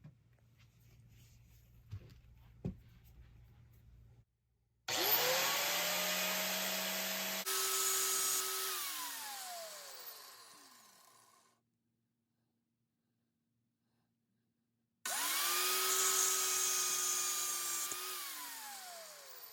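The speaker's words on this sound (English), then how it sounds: "I'm going to lean the angle grinder on there and just tilt it forward and cut these tips off real quick." An angle grinder cuts the tips off screwdrivers in loud, whining bursts, each spinning up and then winding down, with a silent gap between the cuts and a few quiet knocks at the start.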